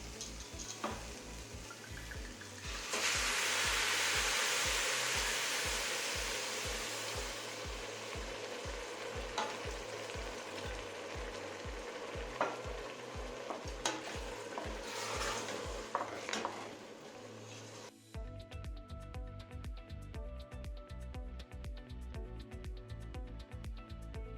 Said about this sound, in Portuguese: a gente adiciona o nosso vinho branco para deglaciar